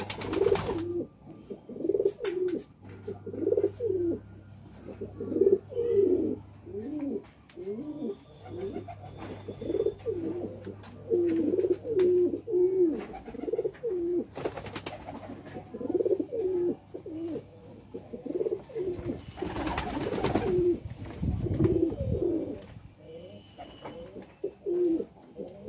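Pigeons coo in soft, repeated rolling phrases throughout, close by, with occasional rustling and thumping noises in between.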